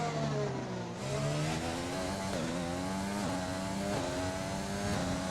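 F1 car in the F1 2020 racing game pulling away from the pits onto medium tyres, engine note rising steadily through gear changes with repeated upshift steps, loud and continuous throughout.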